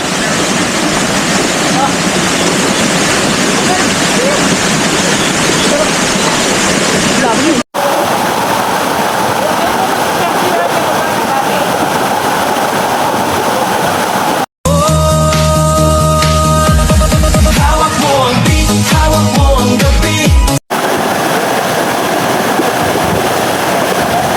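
A waterfall roars steadily and loudly as people dive into clear water, a dense continuous rush broken by one segment of music-like tones.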